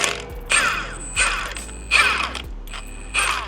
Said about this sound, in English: First time taking off the wheels.